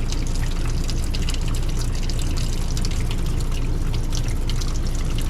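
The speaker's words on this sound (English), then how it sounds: "you're gonna let it run in your sinks until you just don't smell bleach anymore" Water runs steadily from a tap into a motorhome sink, a constant close, loud rushing splash with no break across the whole stretch.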